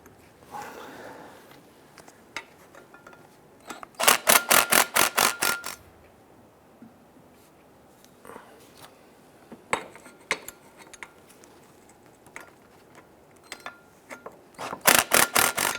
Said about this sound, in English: we want to go ahead and tighten down our bolts